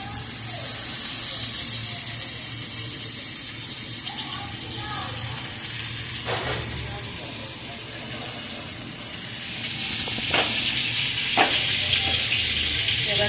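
Grated ginger and chopped green chili sizzle in hot oil in a pan while vegetarian motor dal with potato and plantain is being cooked, a steady close frying hiss with a few brief clinks, and no talk over it.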